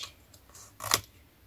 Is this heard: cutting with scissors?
yes